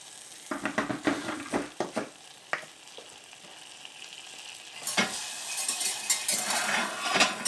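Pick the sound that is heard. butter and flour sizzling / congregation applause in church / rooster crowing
butter and flour sizzling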